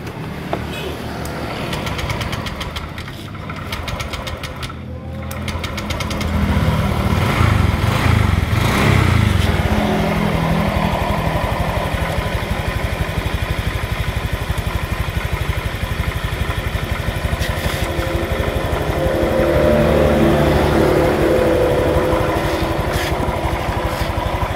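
A Honda Vario F1 scooter engine, suffering from coolant loss from its radiator, idles steadily while warming up. The hum is close, continuous and even, with a faint rattle and no voices.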